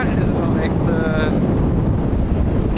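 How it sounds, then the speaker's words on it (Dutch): Strong wind at a stormy, wild sea roars across the microphone as a loud continuous buffeting rush, with a voice speaking briefly under the noise. "Ja, het waait echt heel hard."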